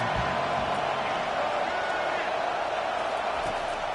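Steady, dense stadium crowd roar from a College Football 25 dynasty game, a loud continuous wash of noise that holds its level throughout with no breaks.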